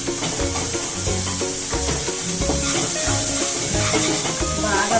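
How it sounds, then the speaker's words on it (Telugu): Paneer masala sizzling loudly in a pan while a spoon stirs and scrapes through it in repeated rhythmic strokes, close and continuous without talk. "బాగా ఫ్రై అయినాక"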